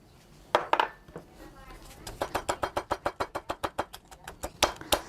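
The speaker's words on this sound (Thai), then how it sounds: "จากนั้นให้เราตำกระเทียมที่เหลือนะครับ" Garlic is pounded in a mortar while cooking Thai garlic-pepper fried pork, a fast, steady run of about fifteen near, hard thuds. A voice speaks briefly at the start.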